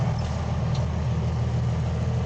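A tractor-trailer engine idles nearby during a snowstorm with a steady low rumble, continuous and even throughout, with no voices.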